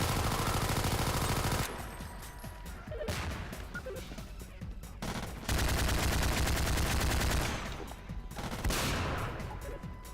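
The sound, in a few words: gunfire from video game Half-Life 2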